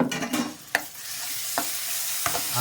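Ground spice paste hits a hot pan with a bright sizzle, joined by a few distinct scrapes of a spatula stirring it, close and continuous over the short stretch.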